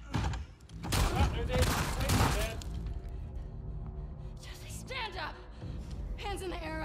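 Gunfire from The Last of Us Part 2: a loud, crackling volley of shots bursts out near the start, and voices then talk over quieter game sounds.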